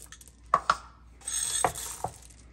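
Chocolate chips for oatmeal cookies dropping into a bowl of cookie dough, a few sharp close clinks and rattles spread across a couple of seconds, with a brief rustly pour in between.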